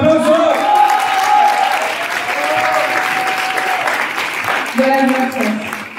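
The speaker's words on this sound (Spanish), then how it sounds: "Un aplauso, ¿no se escucha? ¡Un aplauso!" Audience applause fills a Latin American TV network upfront event in 2023, steady and loud throughout, with cheering voices and whoops rising over the clapping near the start and again at the end.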